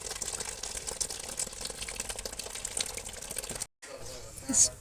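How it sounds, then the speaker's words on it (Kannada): Water being drained off while jowar papad dough is prepared in a village kitchen, a continuous pouring and splashing for about four seconds, cut by a brief gap, then quieter trickling. "ಸ್ವಲ್ಪ ನೀರು ಬಸಿತಾ ಇದ್ದಾರೆ"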